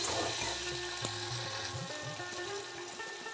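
A spoon stirs turmeric powder and sugar with a splash of water in a hot pan for a green tomato and tamarind dish, giving a steady close sizzle with soft scraping throughout.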